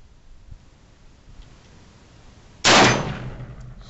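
A Mini 14 rifle shot rings off an orange steel plate at 50 yards. After a quiet lead-in comes a single sharp crack with a metallic clang that decays quickly. No talk is heard.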